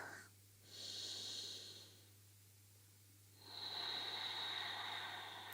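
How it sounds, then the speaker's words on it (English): Slow, deep breathing during a yin yoga session: soft, airy inhales and exhales come in long separate waves over quiet room tone. "Let's go one more inhale."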